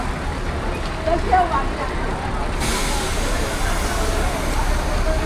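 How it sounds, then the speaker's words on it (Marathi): A red state-transport bus pulls up at a roadside stop on a dusty country road, its engine and brakes rising into a broad, steady roar that grows louder partway through, with voices nearby. "चला गाडी आलेली आहे"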